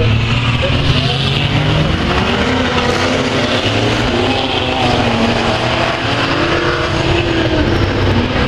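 R2 saloon cars racing at Taipa: a dense, constant roar of several engines revving and passing on the circuit, loud throughout, with a commentator's voice running underneath.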